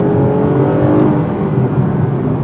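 A 2020 Toyota Avalon TRD accelerating on back roads: a loud, steady engine drone with road rumble underneath, heard from inside the car for a couple of seconds, no talking.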